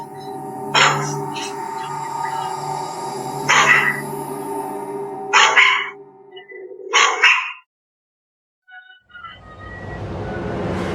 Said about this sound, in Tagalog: Nang magsimulang tumahol ang aso sa kung anong nakikita nito